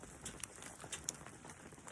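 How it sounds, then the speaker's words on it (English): Hail falling and bouncing off the ground at an outdoor camping and fishing spot gives a faint, scattered patter of light ticks against a quiet background, with no talking. "It is actually hailing right now."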